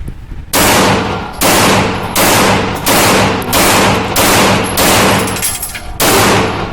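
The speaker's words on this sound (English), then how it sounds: "Enjoy my friend's shooting." Gunfire at an outdoor target range: a string of loud, close shots, roughly eight sharp reports spaced about a second apart, each followed by a ringing decay, with no talking.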